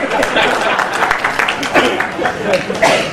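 Men in the audience at a spiritual talk on depression clap in a lively burst of applause, dense and fairly loud throughout, with speech carrying over it.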